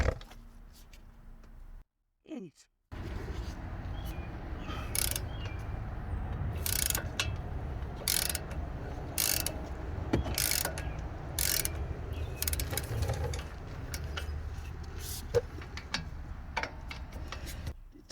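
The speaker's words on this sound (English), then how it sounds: "What we'll do with taking the bolts off of the caliper that are right here." Ratchet wrench backing off the brake caliper bolts on a Chevy Silverado front brake: steady close ratcheting clicks over a workshop hum, with a brief pause near the start and a few louder bursts.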